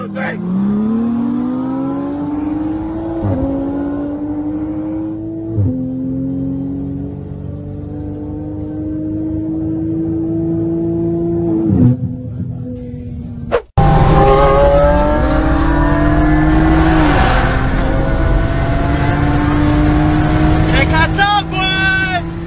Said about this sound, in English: this Twiin Supra gaps Lambos left and right